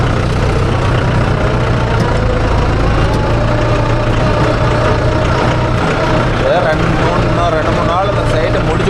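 A JCB 3DX backhoe loader's diesel engine runs loud and steady on a soil-loading site, a constant low rumble filling the whole stretch with faint talk in the background.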